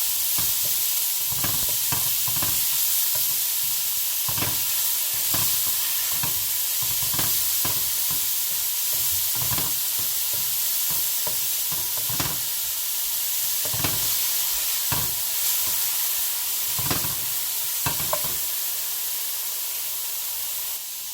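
Garlic sautés in a pan with bell pepper and carrot over lowered heat, giving a constant close sizzle and hiss broken by regular scraping stirs, with no talking.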